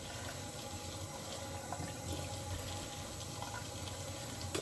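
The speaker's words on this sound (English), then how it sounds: "Washing off the stone." Running water rinses a knife sharpening stone, a steady close splashing stream from a tap held for the whole stretch with no talk.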